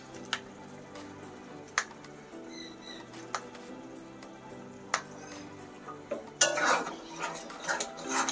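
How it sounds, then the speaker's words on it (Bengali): Lote fish jhuri (Bombay duck) being stirred in a pan with coriander leaves and green chillies, sparse metal spatula scrapes and clinks at steady intervals, growing busier and louder near the end, no talking. "এবার এটা যতক্ষণ না শুকাচ্ছে ততক্ষণ নেড়ে যাবে।"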